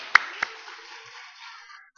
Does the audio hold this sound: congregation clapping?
yes